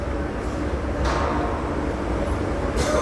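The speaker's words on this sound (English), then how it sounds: "Comes the train." A train pulls into a station platform at the end of the line: a steady loud low rumble with brief hissing surges, close by, and no talking.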